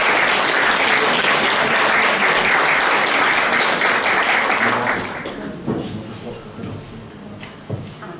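Loud, dense applause from a seated audience at a regional volunteering awards gala in Olsztyn, sustained for about five seconds before tapering off into scattered claps and room noise.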